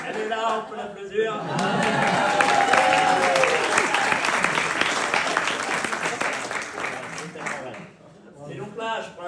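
A room of people breaks into sustained applause that rises quickly, stays loud and dense for several seconds, then dips and flares briefly before fading.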